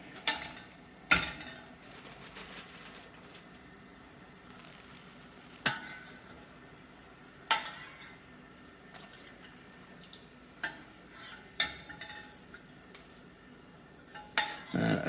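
Chips frying in oil in a pan, a soft ongoing sizzle broken by sharp clinks and scrapes of a spoon against the pan at irregular intervals, close and fairly quiet.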